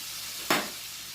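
About half a stick of butter dropped into a hot pan for smashed skin-on potatoes gives one sudden close hiss that flares up and then settles into a fading sizzle, with no talk.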